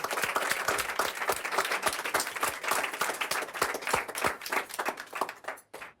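Diners at a Nordic restaurant break into a burst of clapping, a dense patter of many hands that holds steady for several seconds before stopping abruptly.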